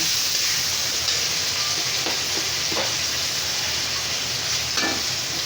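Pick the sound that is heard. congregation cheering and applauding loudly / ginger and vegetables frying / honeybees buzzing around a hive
ginger and vegetables frying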